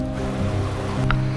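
River water rushes steadily around a kayak on a quiet rural stretch, a continuous close wash with a low hum beneath and no voices.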